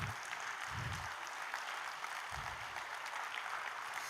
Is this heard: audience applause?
yes